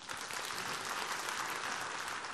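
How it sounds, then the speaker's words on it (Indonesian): Audience applause at a church gathering, a dense, steady wash of many hands clapping throughout, fairly loud and even with no pause. "Ya tepuk tangan dong."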